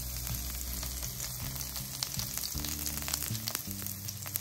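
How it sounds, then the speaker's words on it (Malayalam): Curry leaves sizzle and crackle in hot oil while a banana flower cutlet mixture is being prepared, with a steady close frying hiss and sharp spattering pops throughout, and no talking. "എണ്ണ ചൂടായി കഴിയുമ്പോൾ കട്ട് ചെയ്ത് വെച്ചിരിക്കുന്ന കറിവേപ്പില ഇടുക."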